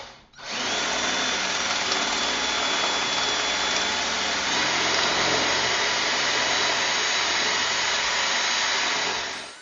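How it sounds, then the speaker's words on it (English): A power drill runs continuously at high speed for nearly ten seconds, drilling holes for Tapcon screws while fixing a broken toilet flange, a steady loud whine with no pauses and no voices. "we're going to drill some holes"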